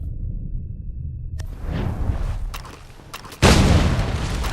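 Explosion in Assassin's Creed III Remastered: a loud, sudden broadband blast that bursts in near the end and sustains a roaring rumble, following quieter game rumbles and whooshes.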